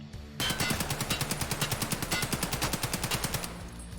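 An AKMS rifle in Escape From Tarkov fires full auto from a standing position: a rapid, evenly spaced burst of about twenty loud shots over roughly three seconds.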